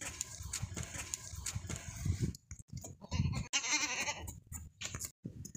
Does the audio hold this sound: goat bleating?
yes